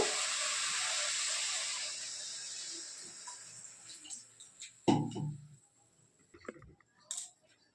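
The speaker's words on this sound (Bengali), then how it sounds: "এবারে আমি জল দিয়ে দেবো এর মধ্যে।" Water poured into a hot pan of oil for a boal fish tel jhal curry hisses loudly at first, then fades over a few seconds before some sharp utensil clatters near the end.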